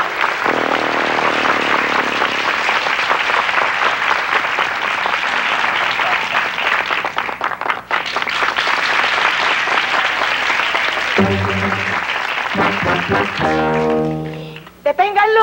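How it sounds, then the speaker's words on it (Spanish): Loud, sustained audience applause at a live comedy show fills nearly the whole stretch, with brief musical notes and a tonal passage breaking through near the end. "¡Fuerte el aplauso!"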